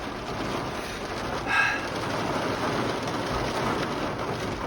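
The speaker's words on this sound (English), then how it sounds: "Unexpected rain at the junkyard." Steady, soft rain patters on a surface at a junkyard, a continuous gentle hiss with one brief louder swell partway through.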